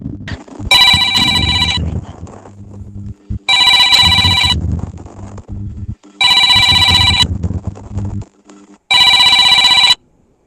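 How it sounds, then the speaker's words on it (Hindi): A phone ringtone goes off during an online class, four loud, repeated bursts of bright electronic tones separated by pauses, while people talk underneath and between the rings. "किसका फोन आ रहा है?"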